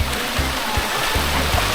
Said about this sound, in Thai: เดินข้ามน้ำตกกะอ่างนะครับ